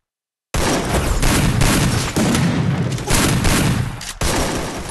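Rapid bursts of M10 gunfire in a mobile battle-royale shooter game, several loud sustained volleys separated by brief gaps, close and dense with no voices.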